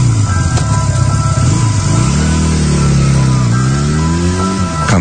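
A group of three motorbikes pulling away at night on an empty road, engines droning loud and close with rising and falling revs as they set off.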